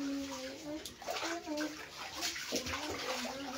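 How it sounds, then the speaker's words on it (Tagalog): Children splash and slosh in floodwater inside a house, with uneven watery splashes and churning close by under their chatter and an adult's voice. "masyado na silang nag-enjoy dito sa tubig baha sa bahay."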